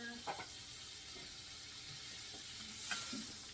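Butter sizzling on a flat top griddle, a steady soft hiss with a few brief scraping and clattering touches, at moderate distance and with no talking.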